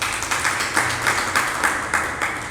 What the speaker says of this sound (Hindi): तुमने अधूरी में ताली बजा दी।